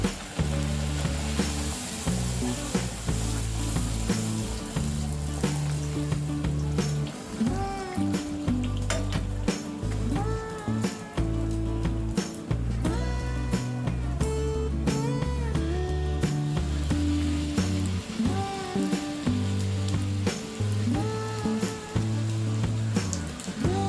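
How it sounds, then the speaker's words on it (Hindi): Pooris fry in hot oil in a kadhai with a dense, continuous crackling sizzle that bubbles and pops steadily throughout, close up and with no talking. "तेल गरम हो गया है, अब हम इसमें ये पूरी फ्राई करेंगे।"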